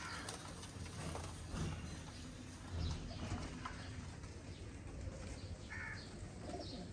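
Pigeons in a backyard loft of paired breeding birds, cooing softly and intermittently over a steady wash of outdoor background noise, with no talking.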